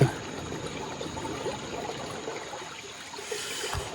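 River water flows steadily beside a forest campsite at night, a constant soft rushing close by with no talk.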